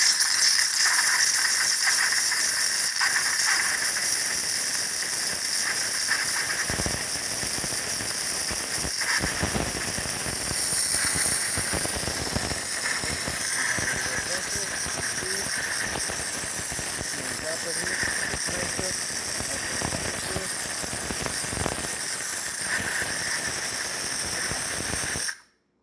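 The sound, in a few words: steam from Saeco espresso machine steam wand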